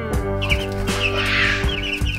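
Several chickens cluck and chirp close by, with short bursts of calls over a steady low hum of background noise.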